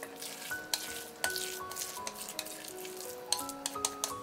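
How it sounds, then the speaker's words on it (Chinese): Vegetable batter made with onion poured into a preheated pan brushed with cooking oil, giving a soft close sizzle with light scraping and tapping of a spatula, with faint music behind. "平底锅预热，刷上一层食用油，把搅拌好的菜糊倒入锅中"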